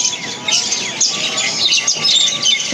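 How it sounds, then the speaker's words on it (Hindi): A dense chorus of birds calling and chirping at dusk outdoors, loud and continuous, with many overlapping tweets and no talking. "पक्षियों की आवाज़"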